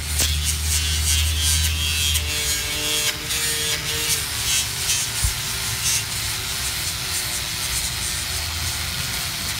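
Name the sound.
angle grinder with sanding attachment on resin table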